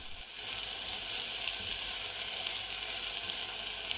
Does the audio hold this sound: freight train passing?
no